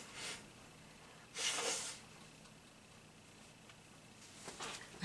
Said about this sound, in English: I've got to blow my nose a little bit.